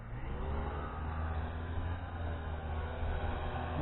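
The motors of a Syma X8HG quadcopter drone spin up for takeoff, giving a steady, dense whirring drone that holds constant and fairly close throughout, with no voices.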